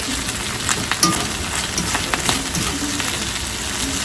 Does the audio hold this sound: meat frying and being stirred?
yes